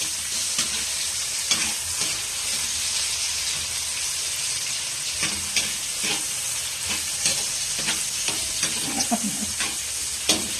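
Onion and tomato stir-fried in a pan for a Filipino seafood and vegetable dish, a steady dense sizzle with scraping stirs and clinks throughout, close and moderately loud, with no talking.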